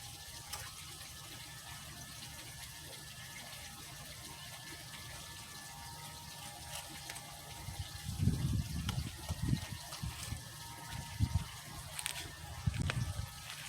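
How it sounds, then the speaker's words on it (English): Water poured into a small fountain-style bee waterer outdoors, with a faint background hiss and then a few close bursts of pouring and sloshing in the second half. "So I'm gonna put a little water and I'm just gonna move it and hopefully it holds."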